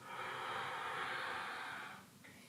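A long, deep breath drawn in during a yoga exercise, a steady airy rush that swells and holds for about two seconds before fading, close and fairly quiet.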